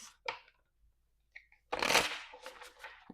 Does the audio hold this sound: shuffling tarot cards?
yes